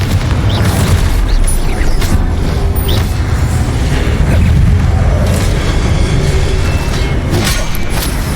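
In Hogwarts Legacy, a Confringo blasting spell sets off a loud, dense roar of booming rumble that stays continuous throughout, with no clear separate pops and no talk.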